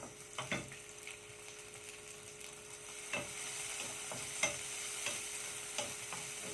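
Squid adobo sizzles softly in a pan while tomatoes go in, with a steady frying hiss broken by several sharp clinks and scrapes of a utensil against the pan.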